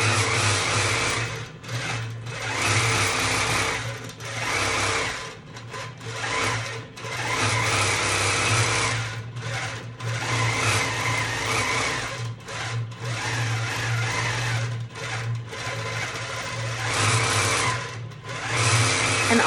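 A long arm quilting machine stitches steadily, a close, continuous motor hum with rapid needle chatter that swells and dips in short bursts over about twenty seconds.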